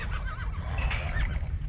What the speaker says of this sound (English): Once they're caught, the horses are penned.